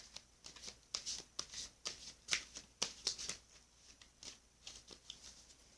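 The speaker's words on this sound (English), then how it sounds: "Let me cut this deck for you" An oracle card deck shuffled and cut by hand, giving soft, close riffles and flicking taps in a quick uneven rhythm, faint and alone without talking.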